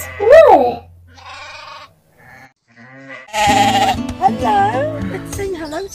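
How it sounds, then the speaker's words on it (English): Sheep and lambs bleating on a farm, a loud wavering cry at the start and then several bleats mixed over busy background noise, with speech-like voices nearby. "Sheep are very clever and they are highly social animals."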